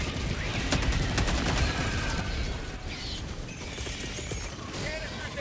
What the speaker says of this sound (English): Double reload.